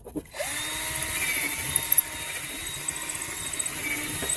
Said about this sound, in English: Then we drill the rest of the hole.